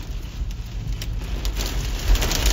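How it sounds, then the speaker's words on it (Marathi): Hail drums on a car during a storm, a dense, continuous patter of hard impacts with a low rumble beneath, heard from inside the vehicle with no talking. "गाडी पण गारा पडायला लागल्यात, गारा."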